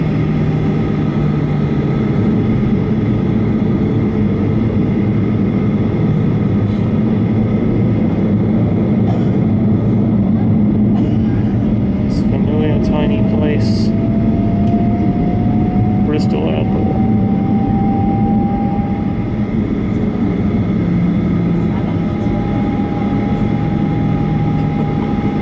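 Airplane cabin during the landing run on a trip to Cyprus: a loud, constant low engine and airflow roar fills the whole stretch, with a rising whine partway through and a cabin announcement heard over it.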